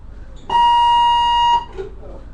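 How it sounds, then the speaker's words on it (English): A school PA intercom chime sounds once, a single sustained electronic tone lasting about a second, loud and clear over quiet room tone. "the PA sounded and Mr. Bush came on the intercom"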